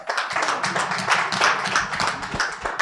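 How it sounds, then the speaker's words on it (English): An audience at a report launch on frontline health facilities in Nigeria claps to welcome a publisher, with dense, steady, close hand claps throughout. "Please, with a round of applause,"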